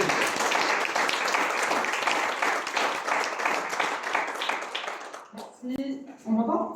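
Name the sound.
audience applauding a speaker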